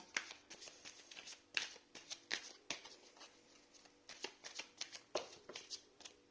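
A well-worn deck of fortune-telling cards is shuffled by hand in a quiet room, giving repeated soft riffles and flicks in uneven bursts, close and fairly faint.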